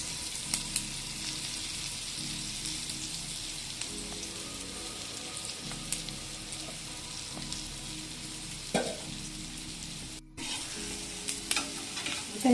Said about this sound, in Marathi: मस्त अशा आलटी पालटी करून त्यांना मंद गॅसवर शिजवून घेऊया